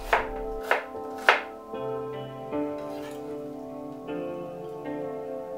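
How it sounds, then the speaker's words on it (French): A knife slicing through an onion on a cutting board: three crisp, close chopping strokes in the first second and a half, then quiet with soft background music. "Émincez l'oignon"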